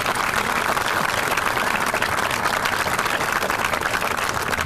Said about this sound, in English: please, if we can give all of our explorers and our stars a big round of applause too.